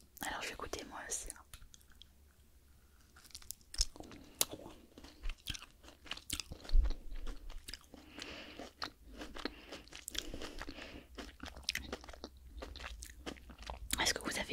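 Close, crisp crunching and chewing of food during a Christmas-themed French ASMR medical-exam roleplay, with irregular bites and mouth sounds between soft whispered talk.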